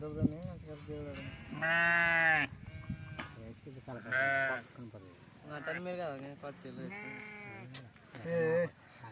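Grazing sheep bleat loudly nearby, several drawn-out wavering calls from different animals coming in separate bursts with short quiet gaps between them.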